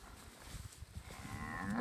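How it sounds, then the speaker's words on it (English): Cattle low in a pasture on Polyface Farm during a herd move in a dry spell, several moos rising over open-air background noise, moderately near and steady. "All right, let's move these cows."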